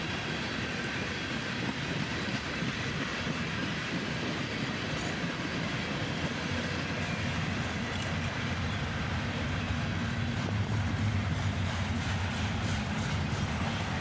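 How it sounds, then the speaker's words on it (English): CSX freight trains pass close by, including an intermodal, producing a steady rumbling roar with rhythmic wheel clatter and rail noise that continues for the full fourteen seconds, swelling slightly near the end. "the tail end of the first train passes us by while the intermodal was still passing"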